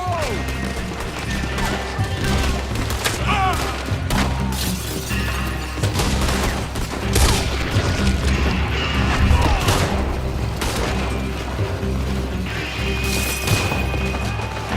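Gunfights in Red Dead Redemption 2 rattle out as repeated gunshots, sharp cracks and crashing impacts, near and loud, with chaotic battle noise and characters talking over it throughout.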